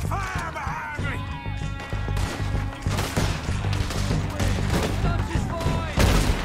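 Red Dead Redemption 2 gunfire from a shootout with the O'Driscolls sounds as a dense, loud fusillade of rapid shots and impacts that carries on without a break, while a voice shouts over it.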